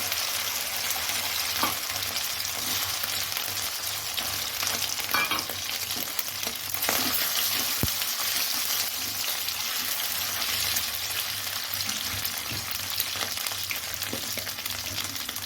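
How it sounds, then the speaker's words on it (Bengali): Boiled potatoes frying in a little hot oil in a pan, a steady close sizzle with soft crackles and occasional stirring scrapes throughout. "তেল গরম হয়ে গেছে আলুগুলো ছেড়ে দেবো"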